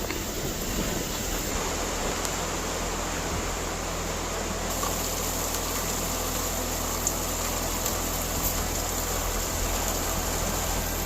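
Dense, steady roar of heavy thunderstorm rain fills the scene without pause, a broad hissing wash with a low rumble underneath.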